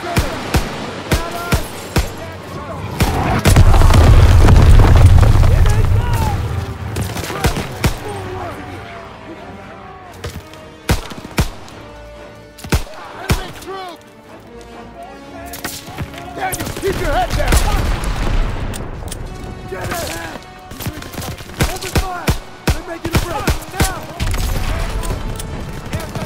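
Gunfire and explosions in the World War II shooter Call of Duty WW2, in a house-clearing battle. Repeated shots crackle at an uneven pace and heavy booms swell twice, with soldiers shouting orders throughout.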